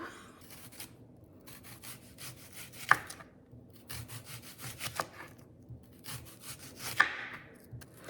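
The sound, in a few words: knife slicing sweet onion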